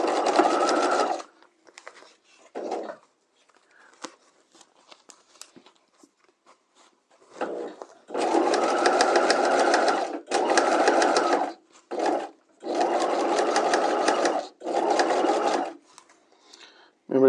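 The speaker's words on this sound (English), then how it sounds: "Let's go ahead and start sewing this together." A sewing machine runs a permanent bodice seam in the outer shell fashion fabric, in several close, steady bursts of stitching broken by short pauses and quiet handling noises.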